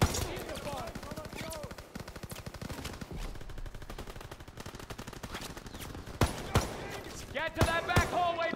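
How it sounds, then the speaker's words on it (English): Rapid weapon fire in Call of Duty: WW2, dense bursts of gunshots running through the whole stretch under a voice talking, with a few sharper, louder cracks near the end. "This gun tickles."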